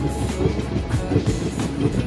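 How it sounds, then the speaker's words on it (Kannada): Inside a DEMU train drawing up to the platform at Alnavar, a steady low rumble with faint wheel clatter runs continuously and fairly loud. "ಈಗ ನಮ್ಮ ರೈಲ್ವೆ ಗಾಡಿ"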